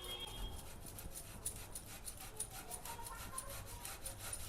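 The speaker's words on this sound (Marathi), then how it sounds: "एक बटाटा घेतलाय, तो किसून घेऊ।" A boiled potato rubbed against a kitchen grater for doughnut batter, giving steady close scraping strokes in a quick repeated rhythm, fairly quiet throughout.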